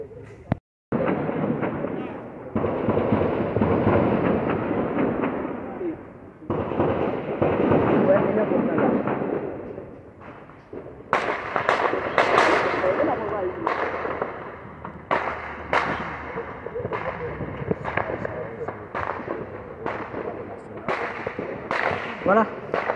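Sharp gunshot cracks in the capital during unrest near the national palace, several sharp reports scattered irregularly over continuous crowd noise and talk, some closer and louder, others farther off.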